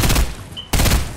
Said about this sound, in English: I hopped down and shot.